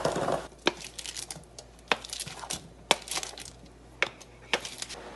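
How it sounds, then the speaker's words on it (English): Soft scattered clatters and light thumps as chopped vegetables for butternut squash soup drop into a pot of boiling water, several separate impacts at irregular intervals over a low background hiss. "let's start adding in all of our chopped ingredients here"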